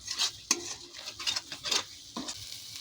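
Cumin and coriander powder masala for egg korma being stirred in a pan, soft sizzling under quick, sharp metal spatula taps and scrapes, close-up and faint, with no voices.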